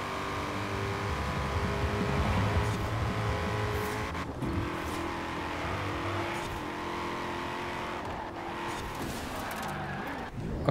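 A Porsche racing car in Forza Horizon 4 roars loudly throughout, its engine revving and shifting with brief tire squeal, steady and close, with no talk.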